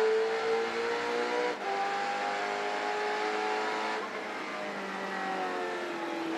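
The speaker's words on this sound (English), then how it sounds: "Sound of a supercar" A touring race car at Symmons Plains in a Touring Car Masters race, its engine droning loud with strong harmonic whine, shifting pitch through gear changes and brief dips as it accelerates through the circuit.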